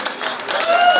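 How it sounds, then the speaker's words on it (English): A comic con crowd in Swindon breaks into brief applause for a guest, a scattered patter of clapping that builds slightly louder over about a second, with some voices mixed in. "Ladies and gentlemen, big round of applause."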